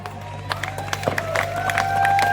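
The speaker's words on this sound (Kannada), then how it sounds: "ಸೊ ಒಂದ್ ಜೋರ ಕೈ ಚಪ್ಪಾಳೆ ಕೊಡ್ಬೋದಾ?" An audience at a live stage show breaks into applause and cheering, the clapping swelling over a couple of seconds beneath a steady hum from the sound system.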